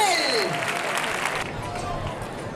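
A crowd claps and cheers for a recortador at a bull-dodging contest in Gandía, loud applause under an announcer talking excitedly over it.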